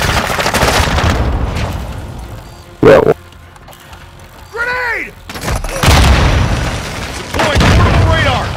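A headquarters blows up in Call of Duty: Modern Warfare II, a short deep boom around three seconds in among game effects, gunfire-like cracks and a rising whistle, with voices underneath.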